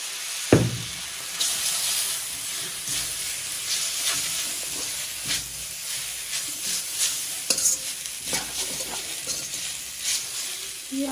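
Kodo millet noodles fry in a pan after soy sauce goes in, hissing and steaming steadily while a spatula scrapes and tosses them in frequent irregular strokes, close and moderately loud.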